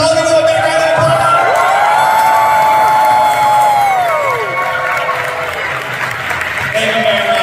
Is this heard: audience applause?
yes